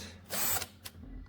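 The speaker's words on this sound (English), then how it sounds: "get yourself a cheap cordless drill" A cheap cordless drill set to its lowest torque runs in reverse while backing out bolts on a Yamaha TTR250 dirt bike. It gives one short, close, loud whirring burst that spins down quickly.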